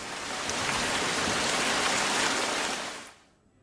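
Heavy monsoon rain pours down in Liliya town, Gujarat, a dense, steady roar of falling water that holds strong for about three seconds before tapering off quickly.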